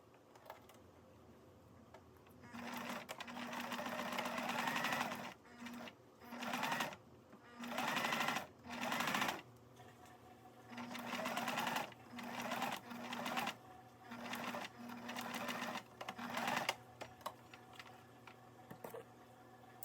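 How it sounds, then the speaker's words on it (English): Sewing machine stitching along one edge of paired fabric squares for a sensory blanket, quiet, close whirring runs in repeated short bursts separated by brief pauses. "then you're going to sew along one edge of the squares"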